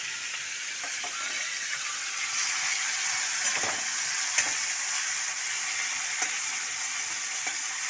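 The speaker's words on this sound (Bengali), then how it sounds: "মাছগুলো ভেজে নিই" Fish fries in a pan with a steady, close sizzling hiss that swells slightly partway through. Occasional sharp pops and utensil clicks break through it, and no one speaks.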